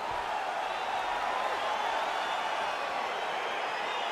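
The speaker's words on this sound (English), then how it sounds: "crowd getting excited as this fight gets underway" Arena crowd in the UFC 4 video game roaring steadily as a fight gets underway, a continuous dense wash of cheering and whoops with no clear breaks throughout.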